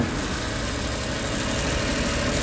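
A Suzuki Multicab three-cylinder fuel-injected engine idles steadily at close range, a constant low mechanical drone with no talk and no clear start-up moment.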